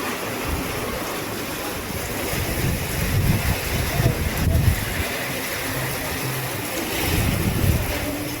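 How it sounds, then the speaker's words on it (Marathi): Heavy monsoon rain pours down near a village auto stand in Sabegaon, Diva, as a steady, loud, broadband hiss that fills the whole stretch, swelling in a few stronger surges. "तर पाऊस आला आता जोरात."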